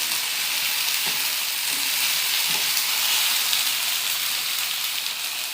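A hot frying pan of sautéed ivy gourd (tondekayi) with coriander leaves sizzles loudly and steadily as a cup of water goes in, a few soft stirring knocks breaking through the close, continuous hiss; no one speaks.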